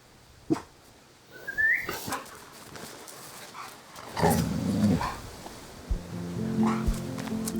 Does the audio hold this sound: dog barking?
yes